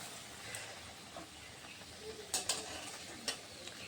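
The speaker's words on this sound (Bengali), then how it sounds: "একটু এপিট উপিট করে ভেজে নিতে হবে" Pieces of soya bean omelette frying in hot oil, giving a soft steady sizzle with a few brief louder crackles and spatters, close by and with no talk.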